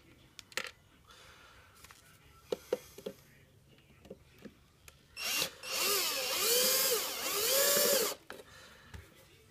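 A power drill drives screws while a hoverboard's battery is replaced, running in two long whining bursts that rise and fall in pitch, close and loud, after a few sharp clicks and taps.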